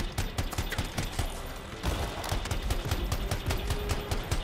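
Dense, rapid gunfire from the video game Anthem crackles without pause, overlapping shots and impacts forming a constant loud barrage throughout.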